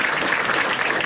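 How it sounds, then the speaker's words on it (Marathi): Audience applause, a dense and steady burst of many hands clapping together at an even level throughout, with no voices standing out. "ठीक आहे, एकदा टाळ्या वाजायच्या"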